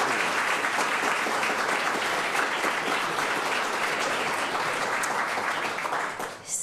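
A large crowd applauds steadily, dense clapping filling the room for several seconds before tapering off at the very end.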